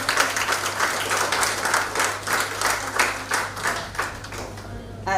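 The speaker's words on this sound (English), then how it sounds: "So give them another round of applause" Another round of applause for special-needs graduates at a reception, a sustained crowd clapping throughout with a low steady hum beneath and some voices mixed in.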